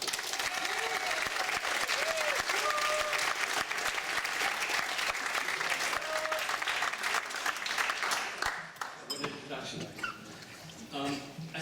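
A cinema audience claps steadily for several seconds before a film screening, dense and sustained, then fades out into a quieter room with a voice beginning to speak.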